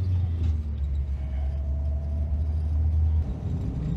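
Engine of a 1975 Citroën CX2200 Pallas idling just after starting, a steady deep rumble heard close up from inside the car, running on alone without any talk.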